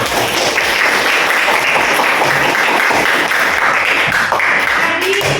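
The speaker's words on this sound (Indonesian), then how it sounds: "tepuk tangan untuk kalian semua" Students in a classroom clap together after group presentations, a loud, close, somewhat uneven patter of hands from a modest group, with individual claps standing out.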